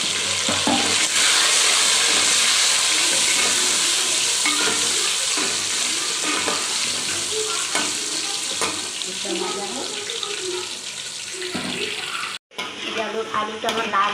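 Potatoes frying in oil in a pan, a loud continuous sizzle with occasional stirring clatter, ending in a brief break and a few sharper sounds.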